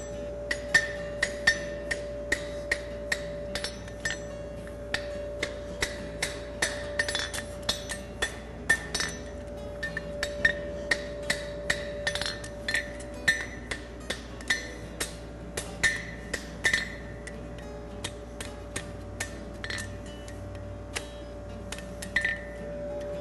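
A hot horseshoe bar for a Z bar shoe is hammered to forge-weld it, with a long run of bright metallic clinks ringing in a steady rhythm under a faint background hum.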